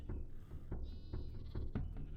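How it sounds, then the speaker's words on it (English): A goat in the Minecraft modpack Terrafirmagreg gives a few short bleats over a soft background of low thumps and game ambience. "All right, come here, goat."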